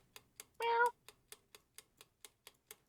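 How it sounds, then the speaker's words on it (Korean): A single cat meows once, clear and close, over a steady ticking rhythm of evenly spaced clicks in a cat-hunting game set in an outdoor town scene. "고양이들 목소리가 가지각색이네."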